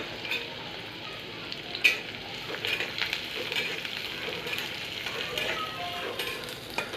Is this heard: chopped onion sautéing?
yes